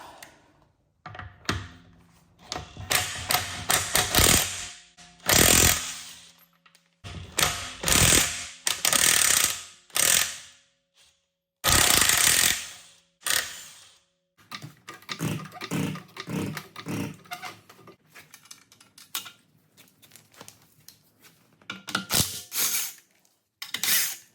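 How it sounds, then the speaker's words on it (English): A DeWalt cordless impact wrench hammers lug nuts off the wheels of a Tesla Model 3 or Y. Loud, close bursts of rattling impacts come in repeated runs with pauses and clunks between them. "to take off the wheels, you need 7x8 breaker bar, or in this case, I'm gonna use an impactor because I don't have time for breaker bars"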